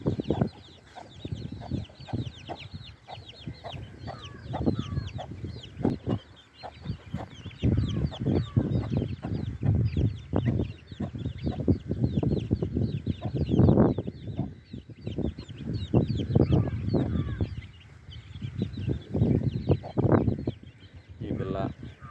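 A hen clucks on and off with four chicks nearby, peeping and cheeping in a dense overlapping chorus, close and fairly loud, with occasional talk underneath.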